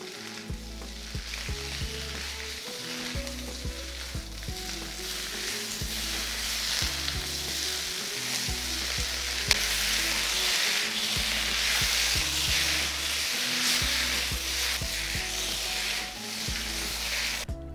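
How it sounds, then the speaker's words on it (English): Vegetables and pork belly stir-frying in a wok: steady loud sizzling with rhythmic scraping and clanking of a spatula against the metal, continuous with no talking. "Stir fry until the veggies are fully cooked."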